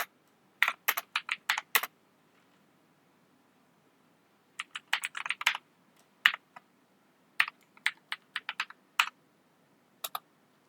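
Bursts of quick keyboard typing on a computer keyboard, clustered clicks in three groups separated by a silent pause, close and crisp with no talking.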